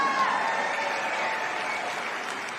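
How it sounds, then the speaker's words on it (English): A convention hall audience at a teachers' union opening session claps steadily in a dense, even wash of applause that holds level throughout the short stretch. "Give her a big applause."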